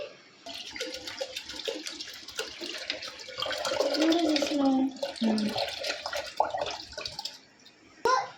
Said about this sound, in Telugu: ఫస్ట్ ఈ పాలని బౌల్లోకి వేసుకోవాలి.